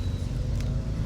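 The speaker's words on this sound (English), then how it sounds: "The neighborhood bros are out working on their vehicles." A steady low engine rumble drones on without a break, a car motor idling close by as neighbors work on their vehicles, with no voices over it.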